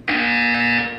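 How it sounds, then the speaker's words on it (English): A test chamber buzzer from the video game Portal 2 sounds once, a loud, harsh, steady electronic tone lasting about a second and then cutting off, alone with no voices. "You will hear a buzzer. When you hear the buzzer,"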